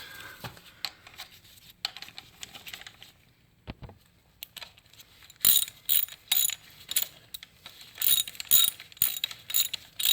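A ratchet wrench tightens a tensioner bolt during an engine replacement on a Kia Soul, starting with faint clicks and scrapes, then moving into loud, close bursts of rapid ratcheting that repeat in short strokes.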